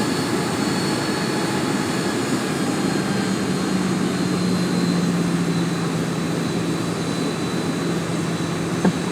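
Flydubai jet airliner taking off from Dubai International Airport in a flight simulator, a steady loud engine roar with a rising drone throughout, no voices.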